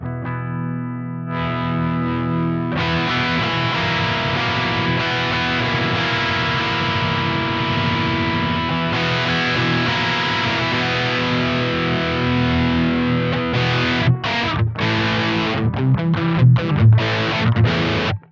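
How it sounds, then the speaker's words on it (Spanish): An electric guitar played through a JHS AT+ distortion pedal: sustained, heavily overdriven chords ring loud and thick, ending in choppy staccato bursts, with no talking. "Ya la mitad es un nivel de distorsión espectacular y tenés otra mitad de recorrido para seguir sumando hasta distorsiones muy pero muy agresivas."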